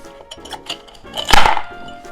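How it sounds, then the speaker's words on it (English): Ice cubes go into a Collins glass holding grapefruit juice and rum: a few light clinks, then one sharp, louder crack as a cube lands, followed by fading rattles, close by with no talking. "I'm going to add some ice to the glass."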